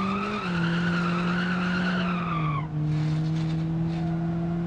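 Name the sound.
car driving at speed without one wheel, from a video game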